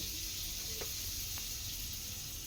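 Pav bhaji parathas fry in melted butter on a pan with a soft, steady sizzle and a couple of faint clicks.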